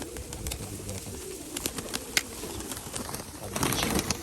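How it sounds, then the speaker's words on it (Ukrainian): Nikolaev pigeons in a cage coo softly and repeatedly over a steady background hum, with a few faint clicks and wing rustles mixed in. "Там ще в клетці хватає голубей."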